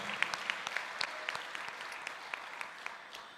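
At a senior inspiration awards ceremony, an audience applauds Bruce Whitman with modest, steady clapping, a few distinct claps standing out over the softer spread of applause.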